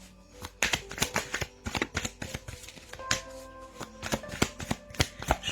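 Playing cards are shuffled by hand in a quiet room, giving a run of quick riffling snaps and taps in irregular bursts, close and crisp, with no talk.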